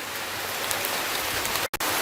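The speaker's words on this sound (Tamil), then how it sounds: "மழை செம்ம ஹெவியாக பெய்ய ஆரம்பிச்சிருச்சுங்க" Heavy rain pouring at a Hindu temple in Kollam District, Kerala, a dense, steady hiss of rainfall close by with no voices, briefly cut out near the end.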